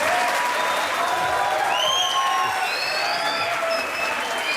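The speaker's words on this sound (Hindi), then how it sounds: "तो ताली बजाइए।" Loud, continuous applause from a television studio audience, dense clapping filling the whole stretch with a few voices faintly mixed in.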